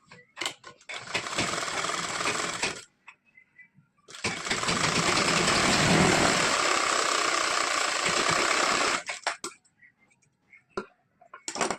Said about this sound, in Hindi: इसके बाद कपड़े को हल्का से इधर फोल्ड करके हम सिलाई लगाएंगे इस तरह से